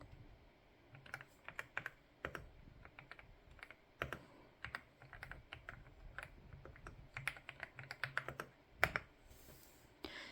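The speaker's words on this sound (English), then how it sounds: "I am going to type a little bit for you, and so you can hear what the keyboard sounds like while you are typing on it" Someone types on a DAREU EK87 PRO hot-swappable gasket-mount mechanical keyboard, with close, crisp keystrokes in irregular bursts and short pauses, some presses clacking louder than others.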